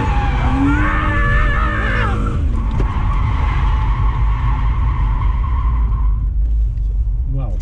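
A drift car at full throttle slides with loud, continuous tyre skidding and squealing over a roaring engine, with a voice briefly audible in the mix.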